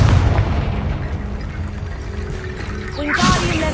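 A Confringo fire spell cast in Hogwarts Legacy bursts with a loud rumbling blast, then a rising whooshing flare near the end, with a voice briefly heard.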